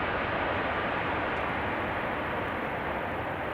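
Airliner landing at Amsterdam Schiphol with thrust reversers applied late, a broad steady roar of engine noise, continuous and fairly loud from a distance, with no voices.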